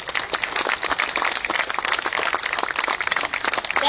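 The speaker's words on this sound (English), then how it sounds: "Big applause, please." Audience applause at a civil-society meeting with a chief minister: steady, brisk clapping from a crowd, moderately loud and continuous, with no talk over it.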